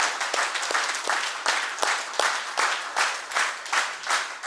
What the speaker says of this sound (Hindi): अपने स्कूल के लिए जोरदार तालियां।